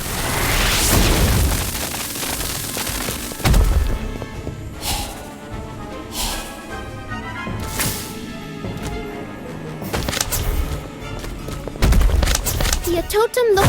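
Confringo blasting spell explosions in the Harry Potter: Magic Awakened video game, several heavy booming bursts with game music and effects, and a voice shouting over the action.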